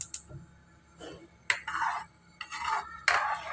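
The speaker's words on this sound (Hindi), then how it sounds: "मुसलसल चम्मच को हिलाते रहना है" A spoon scrapes and clinks against a cooking pot in several irregular strokes as a mixture is stirred on the stove, near and moderately loud, with a faint background hum and no talking.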